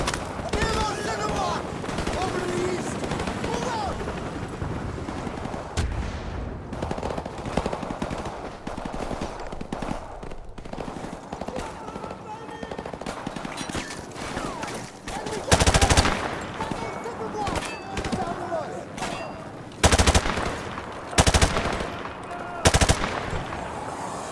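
Sustained automatic gunfire from Call of Duty Modern Warfare Remastered, with dense rapid bursts, heavy loud shots and booming blasts near 16, 20 and 23 seconds, with voices talking under the firing.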